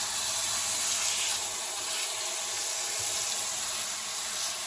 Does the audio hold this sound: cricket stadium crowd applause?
no